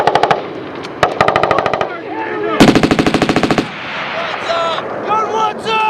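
Marine Corps machine guns firing on a live-fire range, with rapid, loud bursts of automatic fire in several strings, shouted commands between bursts and some echo.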